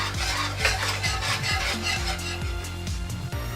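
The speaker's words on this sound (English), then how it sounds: "we're gonna give it a good stir" A spoon scrapes and swirls through pepper mash and rice wine vinegar in a pot, a steady rhythmic rubbing with repeated low knocks against the pot, close and moderately loud with no voices.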